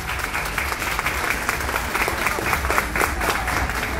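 A graduation audience applauds in dense, continuous clapping that fills the room, loud and sustained, with a few voices faintly mixed into the crowd.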